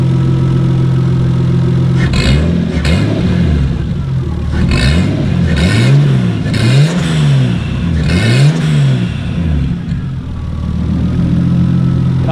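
Nissan 240SX with a swapped RB25DET engine revving nearby from idle, about five sharp rising-and-falling blips in a row before settling back to a steady idle.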